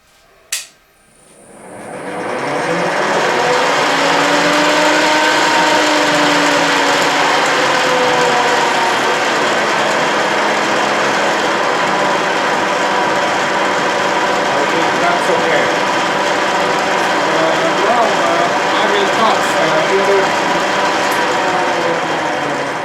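A drill press or milling machine runs in high gear on an engine-part job, starting up after a brief click and then holding a loud, steady mechanical whine with a faint rising tone, continuous and close, without talk.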